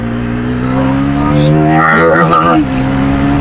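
A Bajaj Pulsar NS400Z motorcycle engine revs hard in second gear, a loud steady drone that climbs in pitch as it accelerates, with a voice talking over it.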